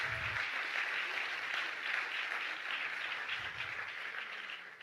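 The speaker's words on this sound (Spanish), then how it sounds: "Dale un aplauso al Señor." A church congregation gives a short burst of applause for the Lord. The clapping is moderate and fairly even, with faint low sounds underneath.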